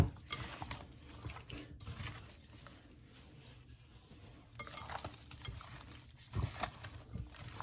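Oxtails are stirred with seasonings and vegetables in a pot, giving soft, irregular scraping and shuffling sounds with faint clinks, fairly quiet and close, with a brief louder knock near the end.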